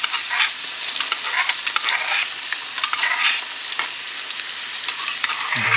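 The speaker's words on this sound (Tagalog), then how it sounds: "Ayan, ilalagay na yung bawang." Garlic frying in a pan, a bright, crackling sizzle with scattered pops and stirring scrapes, close and steady throughout, then a low thump at the very end.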